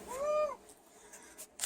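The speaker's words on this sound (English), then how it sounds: "he meowed back like he was okay" A cat gives one clear, close meow with a rising-falling tone, followed by a quiet pause and a few faint indoor rustles.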